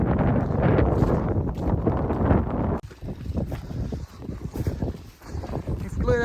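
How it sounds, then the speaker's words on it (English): Loud wind buffets the microphone while someone walks up through a quarry at a shooting range, a heavy, gusty rumble that rises and falls in bursts. "I just thought I'd let you enjoy some of the wind noise."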